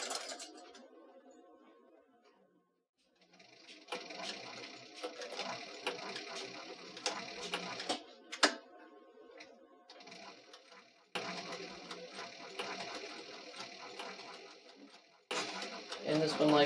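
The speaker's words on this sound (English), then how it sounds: "we can go back to sewing machine" A sewing machine stitches in a zipper on thin material, its fast rattling whir running in two long bursts broken by pauses, while a person talks quietly between runs.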